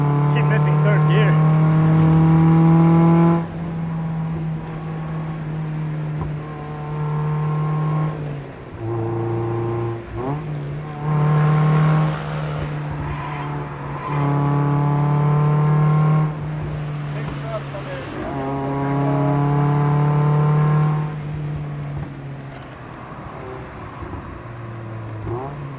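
A Mazda Miata carves a winding mountain road, its engine droning loudly up close, climbing in pitch under acceleration and dropping sharply at each gear change, several shifts in a row.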